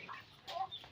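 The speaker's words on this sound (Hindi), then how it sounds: "ये तो इधर मुर्गा और मुर्गी दोनों आए हुए हैं" Aseel chickens, a hen and a rooster, give a few short, close clucks in a quick burst, with no talking over them.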